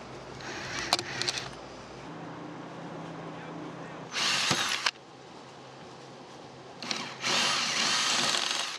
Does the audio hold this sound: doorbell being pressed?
no